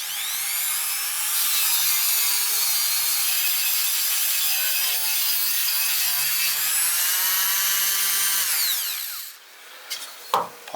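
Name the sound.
polishing wood with an abrasive pad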